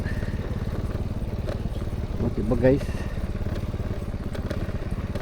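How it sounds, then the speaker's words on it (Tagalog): A 110cc scooter engine labours steadily up a very steep road, its low droning rumble continuous throughout with a brief louder clatter midway, while a rider talks over it. "Scooter lang to 110 pero kinaya."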